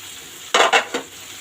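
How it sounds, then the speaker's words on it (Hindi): A spatula scrapes and tosses chicken fried rice with green onion in a hot pan, giving two quick loud strokes and a softer third over a faint background hiss. "मिक्स करेंगे अच्छे से।"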